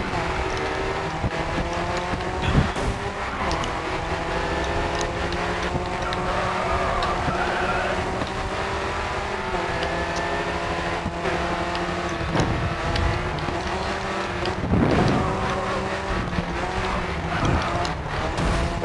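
A race car in the Grid 2 video game roars around a track through a hairpin, its engine droning and shifting pitch continuously with tyre squeal, while a player talks over it.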